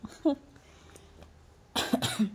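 A person on a trip to Sonmarg coughs nearby, a short cough followed later by a louder cluster of rough coughs, with a little faint sound between them.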